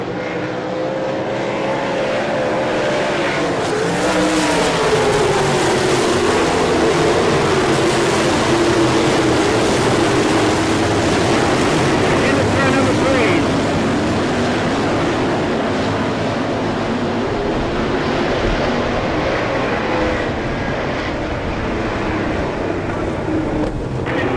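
Race cars from the All Star Circuit of Champions roar off turn four at Selinsgrove, Pennsylvania, during the 2000 Jack Gunn Memorial. A loud, continuous wall of engine noise swells and fades as the pack passes.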